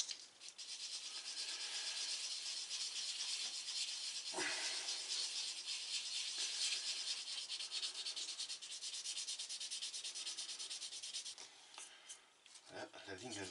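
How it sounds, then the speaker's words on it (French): Abrasive cleaning eraser rubbed against a sanding abrasive, giving a steady, close, scratchy rubbing hiss that runs almost without pause before briefly easing near the end. "j'ai aussi la gomme, voilà, pour nettoyer l'abrasif"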